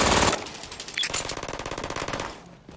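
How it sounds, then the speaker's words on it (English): A turret in the Brink video game fires a rapid, steady burst of automatic gunfire. The shots come as evenly spaced cracks for about two seconds, loud and close, with no talk over them. "Ooh, that's a turret!"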